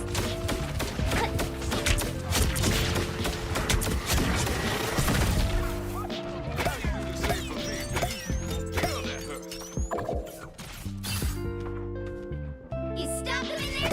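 Explosions and crashing impacts in a hardcore zombie survival video game, a dense barrage of loud bangs and smashes with musical tones, thinning into scattered bursts and crackles toward the end.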